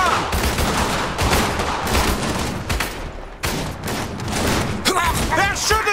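Dense battlefield gunfire in Iron Harvest, continuous volleys of rifle and machine-gun fire with heavy bursts, layered under short shouted unit voice lines.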